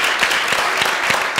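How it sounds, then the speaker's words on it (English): Lecture-hall audience applauding, a dense continuous wash of many hands clapping at steady loudness, brief and without talk. "give yourselves all a big round of applause for the great contributions from the floor today"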